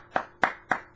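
Hands clapping, four crisp, evenly spaced claps at close range with no other sound between them.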